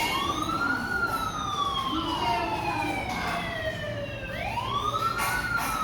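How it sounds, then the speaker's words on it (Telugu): A second ambulance pulls up at a hospital during an emergency mock drill, its siren wailing loudly in slow descending and rising sweeps over a steady background rumble. "ఇంకో అంబులెన్స్."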